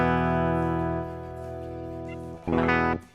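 An electric guitar played through a direct input, clean and dry: a sustained chord ringing out and decaying, then a second strummed chord that stops short.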